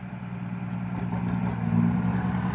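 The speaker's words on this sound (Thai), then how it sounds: "รถไถแรงครับ" A heavy tractor engine runs steadily nearby with a low, throbbing hum that swells slightly toward the end, no voices.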